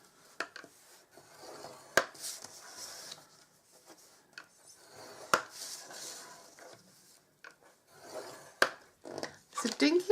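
Paper being scored with a tool for a small birthday fudge box, giving repeated short scraping rubs with sharp taps at intervals, close and fairly quiet.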